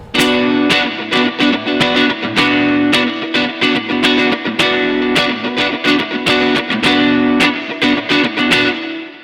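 Distorted electric guitars through a Zoom multi-effects processor with the DT doubling effect engaged hammer out tight, rhythmic chugging riffs and chord hits, loud and up front with no voices.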